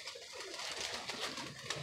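A green pigeon coos softly and continuously at middling distance over a steady broadband background hiss, with no voices present.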